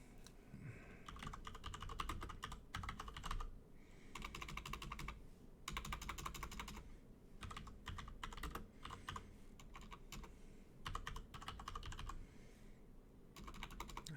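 Typing on a computer keyboard, close up: quick bursts of clattering keystrokes separated by short pauses, repeating across the whole stretch with no talking.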